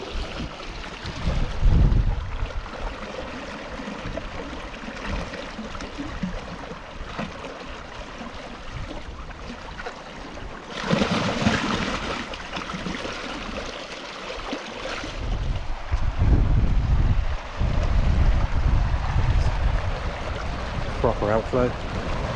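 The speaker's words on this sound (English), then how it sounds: "Rapid tidal outflow." Broad rushing water of a rapid spring-tide outflow on the Taw Estuary, North Devon, surges steadily with gusting wind buffeting the microphone; the roar swells at moments and stays constant throughout.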